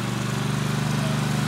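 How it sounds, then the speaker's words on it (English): Lawnmower engine running steadily and loudly, close by, during a rough game of lawnmower football, with a strong, even low drone throughout and no talk. "I'm the one with the lawnmower!"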